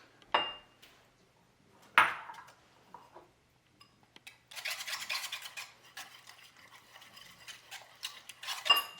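Quiet scraping and clinking of a whisk in a bowl of batter with oat flour, starting with a few sharp taps, then a steady rapid swishing.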